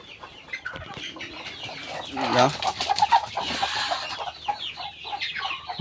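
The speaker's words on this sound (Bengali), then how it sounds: "এই যে আমি মুরগির ঘরে আসলাম" Chickens cluck inside a coop, with a run of close, loud clucks and cackles in the middle and quieter scattered calls around them, while a person speaks intermittently.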